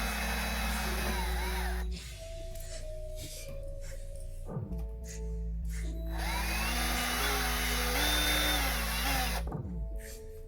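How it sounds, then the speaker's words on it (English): Power drill boring through the plastic casing of a Wiggles toy guitar, a loud steady whine whose pitch rises and falls as the bit bites, cutting out briefly twice between bursts, close up with no talking. "And then I'm just going to run the drill right through here."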